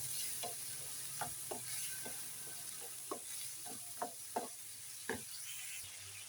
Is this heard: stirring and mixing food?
yes